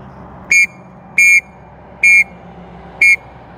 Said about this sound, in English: Oh, that whistle works,